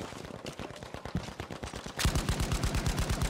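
Rapid bursts of automatic gunfire in the shooter game Battlefield V, a steady run of sharp repeated shots that grows louder and denser partway through, with no talking.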